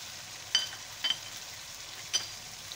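Fried meat with tomatoes and dry spices being stirred in a pan produces a quiet sizzle, with three short scraping stirs close by.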